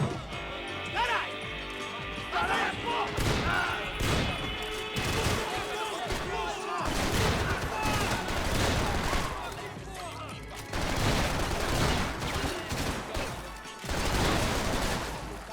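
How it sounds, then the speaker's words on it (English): Bursts of gunfire and crashing impacts from a Max Payne 3 shootout come in several loud clusters of rapid shots separated by brief lulls, with a voice talking over parts of it. "this blind fire tactic is not working"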